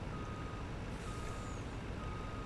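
Steady, evenly spaced reversing beeps from a truck in Farming Simulator 19 sound over a low engine rumble, faint and continuous, with no one talking.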